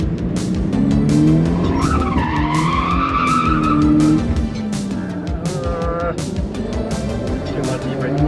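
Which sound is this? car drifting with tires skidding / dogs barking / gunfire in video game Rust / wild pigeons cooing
car drifting with tires skidding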